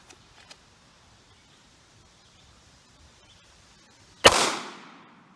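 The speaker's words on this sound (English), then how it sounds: "Barnes 115 grain TacXPD 9mm, shooting from 5 feet away." A single sharp 9mm shot is fired from a short-barrel Taurus GX4 pistol loaded with Barnes 115 grain TacXPD lead-free rounds. The loud, close report rings out after a few quiet seconds and decays briefly.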